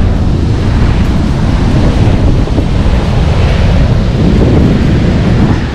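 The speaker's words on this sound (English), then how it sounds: "look at that wave. That's only like 5-10 meters out, and it's massive." Heavy ocean surf pounds a deserted beach, large waves breaking close to shore in a continuous loud roar with wind buffeting, no voices.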